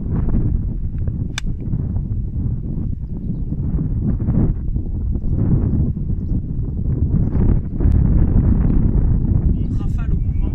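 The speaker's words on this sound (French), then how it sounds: "Il y a vraiment un vent fort comme ça" Strong gusty wind sweeps across a golf course beside a lake at Samanah, Marrakech, producing a loud steady rumble and buffeting against the microphone that swells in the gusts.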